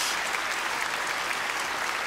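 Spectators at a women's tennis semifinal in Hobart clap in a dense, even burst of applause that stays steady and fairly loud throughout the short stretch.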